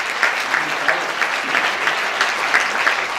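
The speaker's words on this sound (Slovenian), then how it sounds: "Mogoče mu namenimo še en aplavz." A hall audience applauds a young accordion player from the Radovljica music school, a steady, dense round of clapping with distinct individual claps standing out, continuing evenly throughout without talk.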